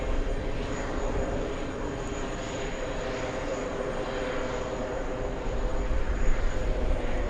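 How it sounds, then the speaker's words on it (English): A China Eastern Boeing 777 lands with a loud, sustained jet engine roar that swells slightly toward the end, heard from an airport viewing spot with no speech. "We have a China Eastern 777 landing."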